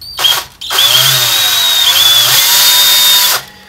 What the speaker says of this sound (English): the key to drilling stainless is you don't want this drill bit turning